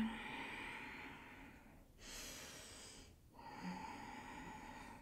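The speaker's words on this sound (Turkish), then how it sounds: "Derin nefes al. Sakin nefes ver." Slow, deep breathing during a yoga session: a long soft exhale, then a pause, then another breath cycle, close and quiet against a faint steady background hum.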